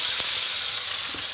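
Steam hisses and sizzles from cooking chicken as the pan lid is lifted off, a steady broad hiss throughout with a couple of faint clicks, close and fairly loud, no talking.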